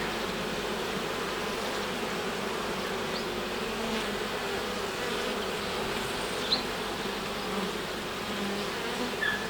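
Steady, dense hum of many honey bees buzzing together inside a hive, continuous and fairly loud throughout with no voices.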